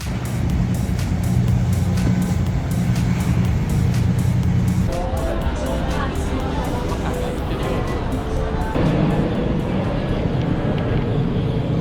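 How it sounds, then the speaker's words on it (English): Dense traffic rumbles steadily along a busy Miami street at night, with engines idling and passing close by, constant and loud throughout. "Very noisy streets, guys."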